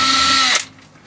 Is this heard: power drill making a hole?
yes